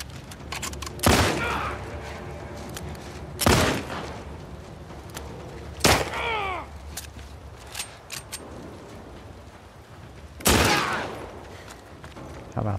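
Gunfire in The Last of Us Part II, sharp loud shots ringing out one by one at irregular intervals, four strong reports among fainter clatter and ambient noise, no talking.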